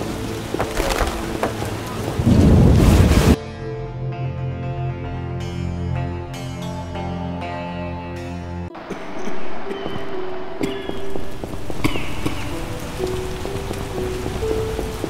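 Heavy rain pours in The Witcher video game, a loud close wash that gives way to a sustained musical score with a background hiss.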